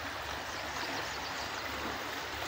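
A steady village stream beside farm fields rushes and burbles continuously, broadband water noise close by with no voices.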